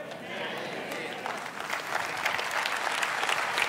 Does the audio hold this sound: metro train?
no